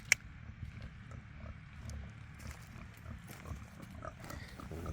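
Pigs on a regenerative farm grunt and snuffle softly at close range, low irregular grunts with occasional clicks over quiet background, no speech.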